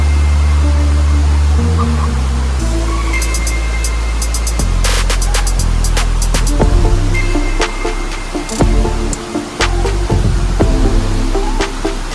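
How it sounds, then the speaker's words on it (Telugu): Valasa waterfall near Maredumilli, swollen by rain, gives off a loud, continuous roar of rushing water that fills the scene from close by, steady throughout with a few faint clicks and knocks over it and no talking. "ఫైనల్ మనం అయితే వలస వాటర్ ఫాల్స్ దగ్గరికి అయితే వచ్చేసాం"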